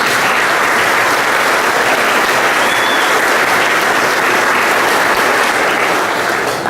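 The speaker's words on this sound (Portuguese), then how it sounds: "Gostaria que toda a comunidade os acolhesse também com uma salva de palmas." A church congregation at Mass gives loud, continuous applause, a thick, even roar of many clapping hands filling the whole stretch without speech.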